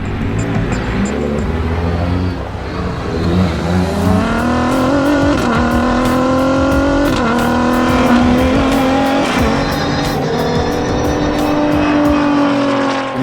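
Dakar-winning Toyota Hilux rally car driven flat out, its engine roaring steadily and loud throughout, pitch climbing and dipping through gear changes with occasional tire noise, no talking.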